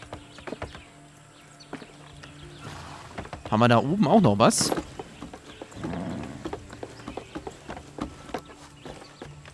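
Horse hooves clip-clopping in the Far Cry 6 video game, a soft, fairly steady rhythm of steps running beneath a man's speech, with a louder burst of game sound in the middle.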